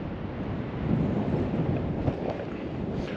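Strong wind roars steadily across the microphone outdoors on a Galveston jetty, a dense continuous rumble with no speech.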